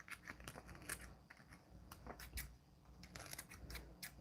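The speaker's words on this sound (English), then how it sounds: "I'm using my scissors to cut the dead stuff or the burnt stuff off my cinnamon stick." Scissors snip and crunch through the burnt, brittle end of a cinnamon stick, giving a series of short crisp cuts and crackles at close range with no talking.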